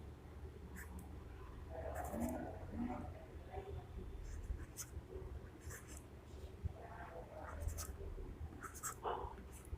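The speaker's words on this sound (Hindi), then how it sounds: "मैं यहाँ पे संख्या इसको थोड़ी बड़ी लिख देता हूं" Numbers being written by hand in large figures, probably marker or pen on a board, as soft scratchy strokes recur through steady background noise.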